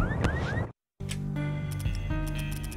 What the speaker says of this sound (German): wenn ich jetzt hier durchgehe, gibt es Alarm